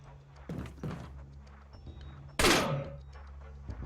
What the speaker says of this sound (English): he'll just come right up to you and shoot you